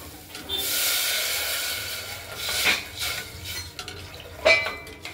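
Masoor dal with salt and turmeric stirred in a pressure cooker pot: a close, steady scraping and rustling of a spoon against metal for several seconds, ending in one sharper clink.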